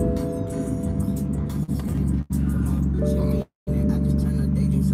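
A BMW M4 engine started by push button, its loud, steady running close by with a few brief dropouts.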